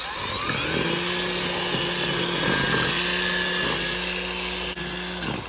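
A Ryobi 40V cordless 15-inch string trimmer cuts weeds beneath a bush. Its motor whines steadily and loudly at close range for several seconds, rising and dipping slightly in pitch as the line bites into growth.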